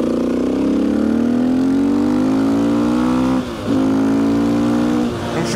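A KTM EXC 450 supermoto motorcycle engine revs hard and close, its pitch climbing steadily, then dips briefly near the end before picking up again, loud and continuous with no voices.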